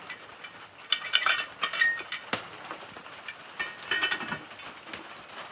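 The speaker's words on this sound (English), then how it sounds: "Let's get this off the lid." A lid lifted off a pot of homemade biscuits, with a few close metallic clinks and clatters and scraping handling noises in a quiet kitchen.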